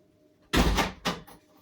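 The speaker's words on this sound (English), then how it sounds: "I'm just going to shut the door." A house door shut close by: a sharp loud bang followed by a second shorter knock as it settles, with quiet before.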